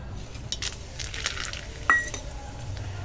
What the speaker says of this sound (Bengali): ফোড়নটা দিয়ে দিয়েছি